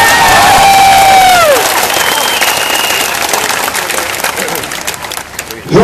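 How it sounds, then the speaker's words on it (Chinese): A crowd at a Melaka rally breaks into sustained clapping and cheering, loud and dense at first, then gradually thinning out. "大家拍手"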